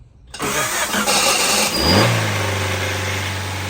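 A 1990 Honda Civic with a swapped ZC DOHC engine cranks briefly, then catches and roars to life, settling into a steady, loud idle.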